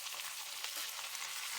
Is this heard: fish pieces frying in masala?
yes